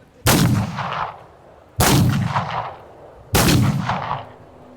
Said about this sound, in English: The guns call out their response one after another, bang, bang, bang.